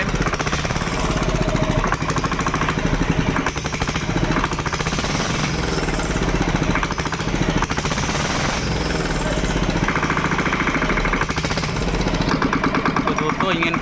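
A repaired Bajaj Maxima auto rickshaw's diesel engine runs steadily after being started, a loud, continuous rapid clatter throughout with a voice talking over it.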